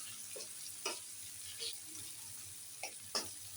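Shapla (water lily stems) and shrimp fry in a pan with dry chili, giving a soft, steady sizzle broken by a few sharp clinks of a utensil. No one speaks.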